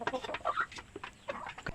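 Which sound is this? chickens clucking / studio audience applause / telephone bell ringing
chickens clucking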